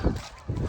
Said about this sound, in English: You can hear all the geese roosting on the pond